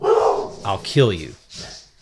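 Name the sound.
dog barking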